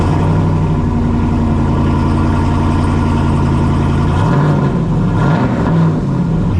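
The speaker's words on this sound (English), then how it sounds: "let's fire this truck up and see how loud it is just running off the cats" A 6.4L HEMI V8 in a Ram 2500 pickup runs on open catalytic converters with no stock exhaust, rumbling steadily and loudly at idle, then swelling through a couple of rev blips toward the end.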